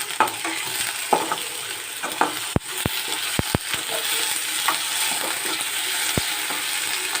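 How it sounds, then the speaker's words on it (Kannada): Onion frying with garlic paste and coriander paste in a kadai, a steady close sizzle under sharp metallic clicks of a spoon stirring and scraping against the pan, no talking. "ಬೆಳ್ಳುಳ್ಳಿ ಪೇಸ್ಟು ಮತ್ತು ಕೊತ್ತಂಬರಿ ಪೇಸ್ಟು ಹಾಕಿಬಿಟ್ಟು ಒಂದ್ಸತಿ ಫ್ರೈ ಮಾಡ್ಕೊಳ್ಳಿ"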